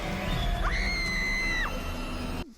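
A woman's sustained high scream in a Sarah Jane Adventures episode, rising sharply and held for about a second over a noisy background before dropping away.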